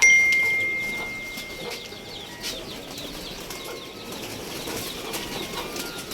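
A pigeon flies in to land at a loft, its wingbeats a loud flurry at first that trails off into softer flutters, with faint bird calls and chirps behind.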